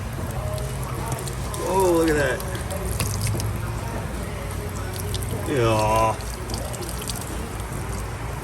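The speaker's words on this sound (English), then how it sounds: "I see water leaking out of their car." Water steadily pours and drips out of a car onto a garage floor, a continuous splashing trickle with a couple of brief gurgling surges, while a person speaks briefly.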